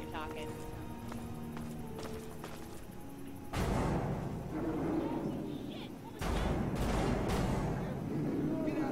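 Explosions in the video game Fallout 3, two loud booming blasts that burst in and linger over a busy game soundscape with steady background noise, close and dominant.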